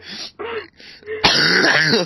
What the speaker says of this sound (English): stop fucking coughing